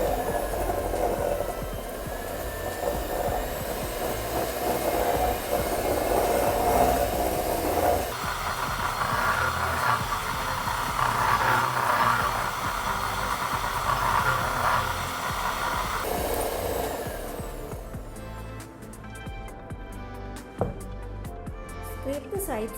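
An electric mixer beats butter and sugar for vanilla cupcakes, giving a steady whirring drone that rises in pitch partway through as the speed is increased, then fades toward the end; no voice is heard.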